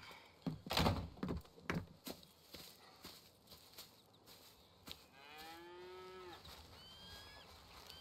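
Cattle low on a farm in a drawn-out, rising moo that fills the latter half, preceded by scattered clopping hoof and door-like knocks in a quiet barn setting.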